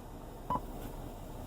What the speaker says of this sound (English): that beeping sound when I push buttons